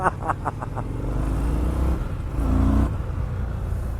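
Indian FTR 1200 S Race Replica motorcycle from 2020 with a 19-inch front wheel, its engine droning steadily and loud while ridden at speed through corners, with a brief rise in revs partway through.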